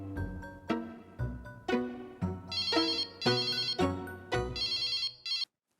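A telephone ringtone plays in a sitcom scene, a series of repeated melodic electronic ring bursts with bright chiming notes, moderately loud and alone, stopping abruptly near the end.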